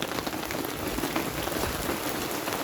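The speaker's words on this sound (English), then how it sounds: "I said it's non-stop rain" Heavy rain pours steadily over a wild camp in British weather, a dense, continuous hiss of drops drumming on tent and ground at close range, with no voices.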